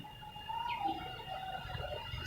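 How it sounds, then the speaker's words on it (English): Maya birds chirping outside a veranda, several short thin calls and tweets scattered at moderate distance over steady low background hum, no voices. "You can see the clouds and also some birds chirping. The birds that we have here is called Maya bird."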